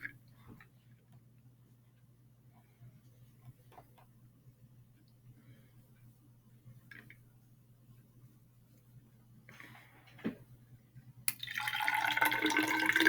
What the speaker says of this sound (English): Go ahead. Pour it in.